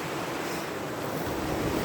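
Continuous broadband rush of river water flowing nearby, steady and fairly loud throughout with no voices.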